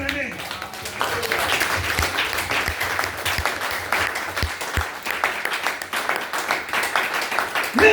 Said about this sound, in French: Est-ce qu'on Amen. peut acclamer, bien-aimé?